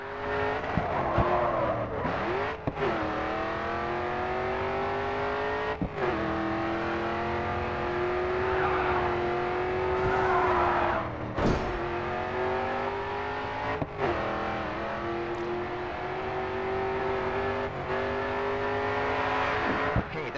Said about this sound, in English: All right, full throttle now, coming onto the final straight.